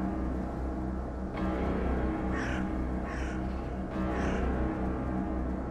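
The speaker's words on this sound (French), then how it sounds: "des corbeaux avaient envahi ses champs, dont certains tournoyaient autour de la grange" Crows caw around a barn in an animated paranormal story, with a few distinct harsh calls spaced a second or so apart, moderately loud over a steady background noise.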